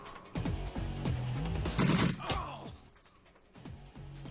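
Enemy gunfire in the turn-based game Shadowrun Returns: a short burst of shots near the middle, over game music with a rhythmic beat.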